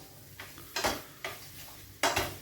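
Masala roasting in plenty of oil for besan okra in a pan, heard as four separate scraping stirring strokes over a soft, low sizzle, each stroke close and distinct.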